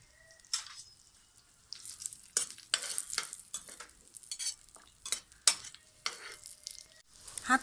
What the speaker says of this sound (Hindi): अब हम इसमें 1 शिमला मिर्च और 2 अदद टमाटर डालेंगे और उसके साथ ही हम इसमें थोड़ी सी कटी हुई सब्ज़ मिर्चें डाल देंगे।